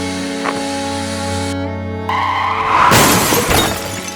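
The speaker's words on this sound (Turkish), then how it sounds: "Adam kendini arabanın altına attı." A car skids and strikes a man who throws himself under it, a sudden loud crash with shattering glass after a low engine hum, then fading debris.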